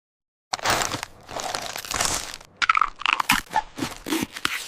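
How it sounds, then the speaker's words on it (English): Someone munches on crunchy snacks such as carrots or chips, giving loud, close, irregular crunches and crackling bites in a quick run. "If you munch on crunchy snacks like carrots or chips, you make a nice sound while you eat."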